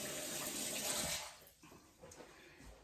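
Tap water runs steadily into a kitchen sink as hands are washed, a close, continuous splashing rush that fades out halfway, followed by a few softer drips and handling noises.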